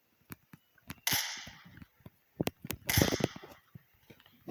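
Secret shotgun shots in a video game, two loud blasts with sharp cracks that trail off, among scattered short clicks and taps.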